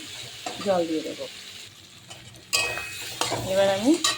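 Potatoes stirred in a frying pan for a fish curry, a spatula scraping and clinking against the pan in two bursts over a steady sizzle, with brief voice-like fragments in between.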